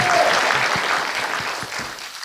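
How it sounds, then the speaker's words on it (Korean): Brief applause from an audience at the close of a Korean academic symposium's panel discussion. It is loud and continuous at first and thins gradually over about two seconds, with a few distinct claps showing through. "그리고 끝까지 남으신 우리 모두에게 박수를."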